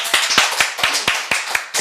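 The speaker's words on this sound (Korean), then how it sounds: "우리 감사의 박수 하나님께 올리겠습니다." A church congregation clapping in thanks to God during a Sunday service, a dense burst of many hands clapping in quick, uneven rhythm, loud and close, with no talk.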